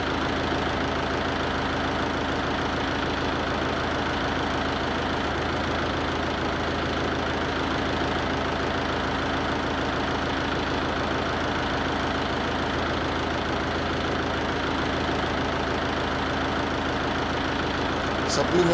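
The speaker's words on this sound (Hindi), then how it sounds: "इंजन की गति धीरे धीरे बढ़ेगी।" A YUVO 575 DI tractor engine with a low idle speed fault runs at a steady idle, producing an even, close mechanical hum that holds unchanged for nearly twenty seconds.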